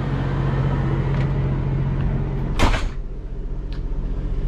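Cummins Onan 10,000 generator running inside a Newmar Dutch Star 4311 RV on a hot day with the air conditioners on, a steady low hum filling the coach, broken by a brief clunk partway through.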